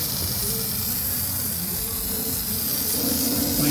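Spray paint is sprayed over a rusted wheel rim, a loud, continuous hiss that holds steady from start to finish.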